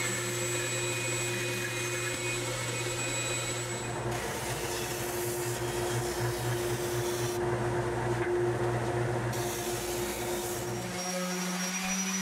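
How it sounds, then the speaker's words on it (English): A bandsaw cuts the curve of a wooden picture frame with a steady, loud, whining mechanical hum. The tone shifts slightly as the blade works through the wood, then drops away near the end, with no voices. "that I can take over to the bandsaw for cutting out the curve of the frame"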